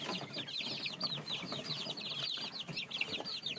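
Month-old chicks in a brood pen give a steady stream of rapid high peeping chirps, soft and fairly close, with faint rustling and fluttering underneath.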